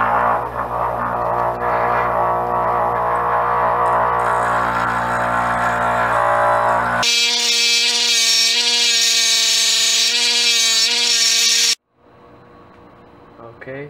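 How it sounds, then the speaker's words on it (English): A bench grinder profiles a lawn mower blade being shaped into a tomahawk, a loud continuous whining grind that shifts to a higher, harsher tone midway before cutting off abruptly near the end. "Got just a little bit more profiling left to do on the grinder here"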